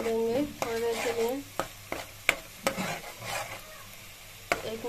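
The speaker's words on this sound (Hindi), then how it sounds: "अब इसको हम भूनने देंगे थोड़ी देर के लिए।" Spiced gram flour mixture with red chilli, turmeric and salt stirred and roasting in a pan, a soft steady sizzle broken by sharp scraping strokes and a few clinks of the spoon against the pan.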